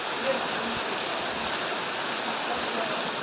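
Steady evening rain falls in a continuous broadband wash, a dense even hiss with no breaks, close and fairly loud throughout.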